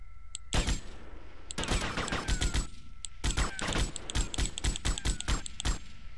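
Gunfire in the video game GTA Vice City: rapid automatic bursts of sharp shots in several volleys separated by short gaps, loud and close against a quiet game background.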